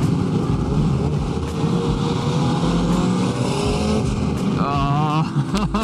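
A Ferrari 250 GTO drives nearby in fifth gear, its engine a continuous loud drone with rising pitch and road roar, heard from a following car.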